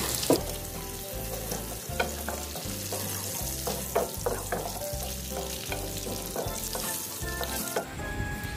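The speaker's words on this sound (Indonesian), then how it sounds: "Bumbu digoreng sampai layu dan matang." Chopped chilies and spice paste for nasi bakar tongkol rica-rica fry in hot oil, a steady close sizzle with a rhythmic stirring scrape roughly once a second, no voices.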